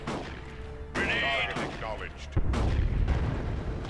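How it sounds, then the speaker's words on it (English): Grenades explode in the Dawn of War 2 strategy game during a 1v1 match, sounding as a few muffled booming blasts and rumbling bursts amid game effects, while a commentator talks over them. "Grenades going off there."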